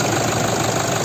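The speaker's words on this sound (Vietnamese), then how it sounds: "đây là tiếng động cơ đang hoạt động này" A 2013 Toyota Hilux with a 3.0-litre diesel engine idles steadily, giving a dense, continuous mechanical rumble with a faint knocking texture, close and even throughout the second.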